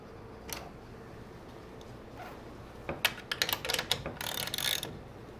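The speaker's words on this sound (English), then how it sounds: "Put my finger on the other side of the carriage bolt, tighten this up." A hand ratchet tightens a carriage bolt while a wooden high deck chair is assembled, a few faint clicks at first and then a close burst of rapid ratcheting near the end.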